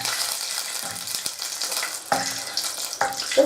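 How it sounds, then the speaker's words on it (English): Whole cloves, bay leaf and cardamom pods sizzling in hot oil on low-medium heat, a steady soft hiss with a few sharp clinks and stirring knocks, close by and without speech. "my oil's heating up, I'm going to throw in my aromatics. So that's my cloves, my bay leaf, and my cardamom pods"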